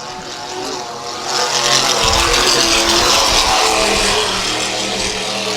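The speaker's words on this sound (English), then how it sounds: "You see that boat as it went by" The P38 Voodoo Racing powerboat, a race boat with exhausts off the transom, roars past at a bracket-class race in Key West, a loud engine drone that swells and holds as it goes by.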